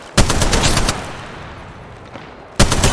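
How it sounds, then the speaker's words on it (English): Automatic weapon fire in the mobile battle royale game Apex Legends Mobile: a loud sustained burst of rapid shots, a lull with lingering echo, then another burst starting near the end. "Opening fire."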